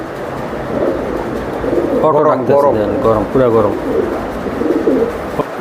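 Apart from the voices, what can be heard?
pigeons cooing, Pakistani teddy racer pigeons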